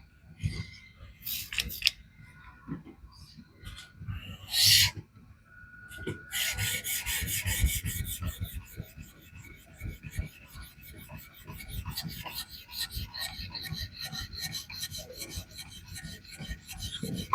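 A knife is sharpened on a resin bonded diamond stone from a fixed-angle 1k-12k set, with repeated close, rhythmic scraping strokes and rasping that grow more continuous and steady over time.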